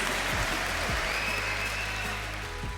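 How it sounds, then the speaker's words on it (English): A crowd claps at an SME funding event in Lagos, with dense, steady applause filling the room throughout without letting up. "Please give me a round of applause"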